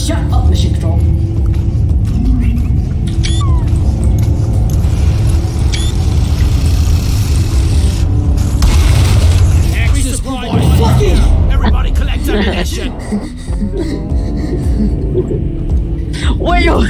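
In a video game, a resupply pod drops and lands with a sudden rumbling impact amid steady game noise and low engine-like hum. Players talk over the sound throughout.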